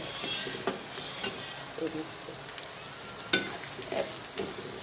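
Okra frying in oil on a home stove, a steady crackling sizzle with occasional stirring scrapes and a few sharper spits, close and moderately loud, no talking.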